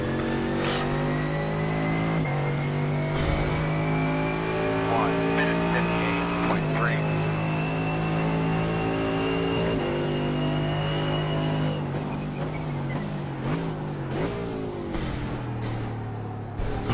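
A Mercedes AMG GT3 race car in iRacing at the Nürburgring: a loud, continuous engine drone holds steady, then revs rise and fall in quick, snarling blips through a run of downshifts near the end.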